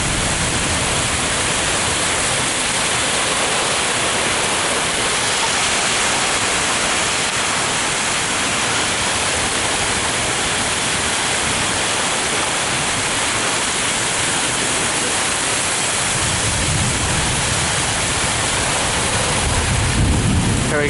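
Heavy rain pours down during a severe thunderstorm in Flat Rock, Michigan, a loud continuous roar of falling water that holds steady throughout, with low rumbling swelling near the end.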